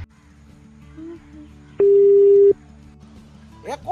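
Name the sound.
phone busy signal on a call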